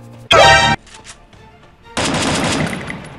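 Two loud bursts of gunfire in the video game Free Fire, a short blast followed by a longer rattling volley after a brief quiet gap, up close.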